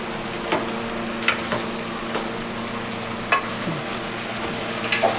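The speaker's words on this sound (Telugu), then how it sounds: "మగ్గిన తర్వాత కట్ చేసుకున్నటువంటి టమోటాలు వేసుకోవాలి." Chopped tomatoes go into a hot pan for a Guntur-style kichidi and are stirred, giving a steady close sizzle of frying with scraping stirs and occasional light clinks of the spoon against the pan.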